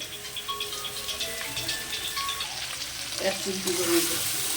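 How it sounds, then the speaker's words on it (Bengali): Chopped onions and potato fry in hot oil in a pan for a Bengali shol fish kosha, a steady close sizzle with a few stirring scrapes and knocks growing louder toward the end. "এবার এটা আমি ভালো করে ভেজে নেব পেঁয়াজটার সাথে আলুটা"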